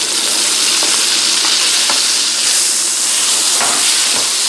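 Ginger and scallion roots frying in olive oil with mapo tofu sauce, making a loud, dense, continuous sizzle and hiss close by, with a few faint stirring taps and no voices.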